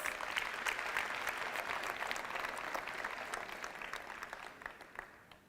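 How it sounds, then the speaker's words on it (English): Graduation ceremony audience applauds in a dense, even wash of claps heard from a distance, steady throughout and tapering slightly at the end, with no talk. "May we give them a round of applause, the last applause."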